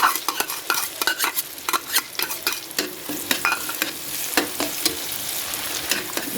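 Onion sautéing in butter and oil for chicken pastil, stirred with a utensil. Close, rapid scrapes and clacks sound repeatedly over a continuous frying sizzle, with no talking.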